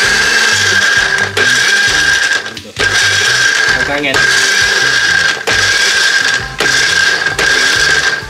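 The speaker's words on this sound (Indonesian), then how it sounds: "Ni kita blender sikit." An electric blender chops ingredients for fried anchovies with petai, a loud steady whirring motor pulsed in several bursts with brief pauses between, as a person speaks briefly.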